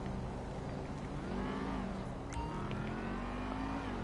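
An electric supercar from Grand Theft Auto Online drives steadily, its motor whine rising and falling in smooth sweeps over a constant road rumble, fairly close and loud throughout.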